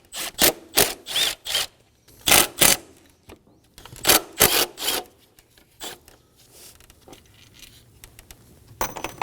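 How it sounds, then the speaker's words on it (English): An 8mm socket ratchets throttle body bolts loose on a 2017-2024 Nissan Armada 5.6L V8, a series of close, sharp rhythmic clicking bursts with short pauses between them. "Using an 8mm socket, go ahead and unbolt it."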